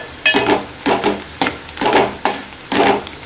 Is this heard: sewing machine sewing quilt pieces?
no